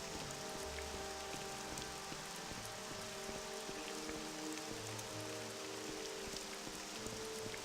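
Steady rain falls in The Elder Scrolls Online, a soft continuous patter of drops on surfaces near the Skating Isles, faint and even throughout with no voices over it.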